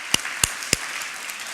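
A few sharp, distinct claps from a conference audience at a closing session, three quick evenly spaced hand claps over faint, scattered background clapping.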